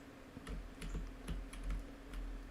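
Computer keyboard keys are pressed in an irregular run of quiet clicks over a low background hum, with no speech.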